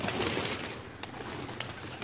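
Domestic pigeons coo softly in an open outdoor space as they are released and fed grain, against steady background noise, with a few brief sharper sounds.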